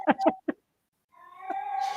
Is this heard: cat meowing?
yes